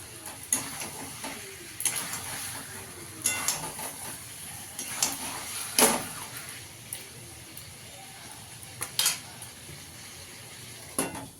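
A spoon stirring masala chicken with potatoes in a hot pan, giving scraping clinks of utensil on metal at irregular intervals over a soft sizzle, close and fairly quiet, with no talk.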